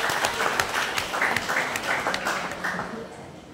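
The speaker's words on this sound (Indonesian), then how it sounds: "tepuk tangan dulu untuk adik-adik" Audience applause for children at the closing of a church choir competition held on parish grounds, steady and fairly loud throughout, with a voice audible beneath the clapping.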